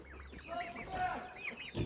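Chickens cluck and chatter close by in a short, busy burst, with no talking.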